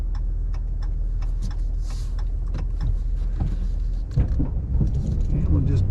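A four-wheel-drive car rolling along a snowy road after a storm, low engine and tyre rumble heard from inside the cabin with scattered ticks and clicks, a person talking briefly over it.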